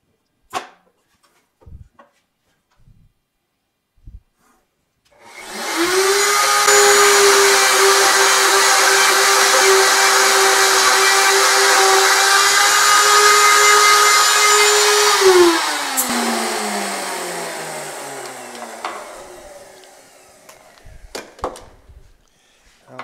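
A wood router spins up and cuts a part for a wave desk, a loud steady high whine holding for about ten seconds before winding down, with a few light clicks and knocks before and after, no talking.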